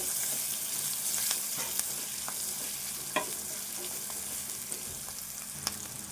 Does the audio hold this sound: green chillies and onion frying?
yes